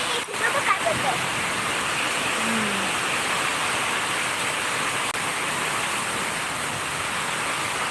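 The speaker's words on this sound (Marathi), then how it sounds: "आज पाऊस आहे आता आलाय ते पण पाऊस अर्धा पाऊन तास झाले पाऊस चालू आहे" Steady rain falling in heavy, even hiss throughout, loud and close, with a brief faint voice near the start.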